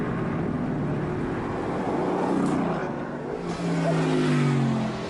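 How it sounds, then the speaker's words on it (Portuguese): A Mercedes-AMG GT V8 engine revving up and down in steady swells, loud and droning throughout, with no talk. "temos que ouvir o barulho certo, que é o do motor"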